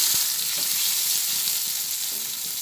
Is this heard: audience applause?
no